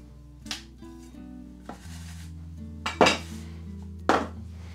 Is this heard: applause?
no